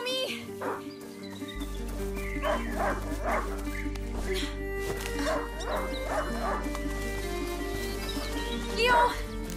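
A hunting dog in the video game A Plague Tale: Innocence barks and yips repeatedly in short bursts over a steady game soundtrack, with a person speaking.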